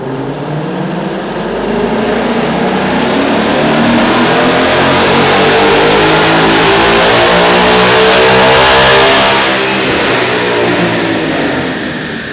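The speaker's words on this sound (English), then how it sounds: "let's make another pull on the dyno." A Ford fitted with a Steeda open-lid cold air intake revs hard through a dyno pull, the loud engine rising steadily in pitch to a peak near the end before easing off, with no talking over it.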